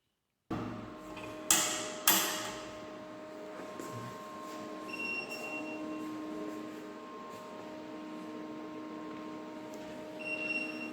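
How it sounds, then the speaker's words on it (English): A pendulum impact testing machine is released and strikes a notched specimen, giving two sharp metallic bangs in quick succession, then a faint lingering ring and mechanical rattle in a quiet lab. "Release the pendulum using the release mechanism."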